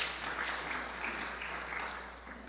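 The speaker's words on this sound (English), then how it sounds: "Let's give the Lord a round of applause." Congregation at a Baptist Sunday worship service giving a round of applause, a soft continuous patter of many hands heard at some distance, steady and then easing slightly, with no voices.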